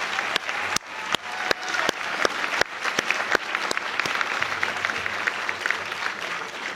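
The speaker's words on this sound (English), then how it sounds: "Please give them a round of applause." Audience at a community college graduation ceremony applauding: a dense, steady burst of clapping from many hands with a few sharp close claps on top, holding loud for several seconds before easing slightly.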